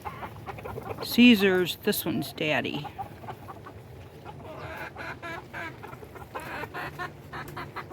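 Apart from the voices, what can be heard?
rooster clucking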